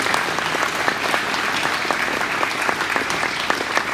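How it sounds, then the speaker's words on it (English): Sustained applause from a crowd at an Australia Day event, dense steady clapping filling the whole stretch at a fairly close, even level. "she deserves certainly a big round of applause from you guys"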